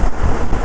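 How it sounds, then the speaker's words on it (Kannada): Heavy rain roars steadily during a Royal Enfield motorcycle ride near Hassan, with a dense, close wash of rainfall and rumbling wind buffeting the microphone throughout the short stretch. "ಹಾಸನ್ ಫುಲ್ಲು ಮಳೆ ಸ್ನೇಹಿತರೆ"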